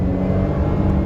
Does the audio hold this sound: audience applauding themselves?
no